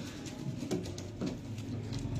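Pigeons coo at a pigeon market in Gujranwala, among birds including a Dabb and Ferozpuri cross, a soft, steady low cooing that runs throughout with a few faint clicks and rustles.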